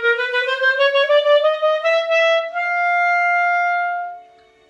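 Clarinet playing a sequence of middle-register notes in a short run that settles into one long sustained tone, solo and close, then fading out.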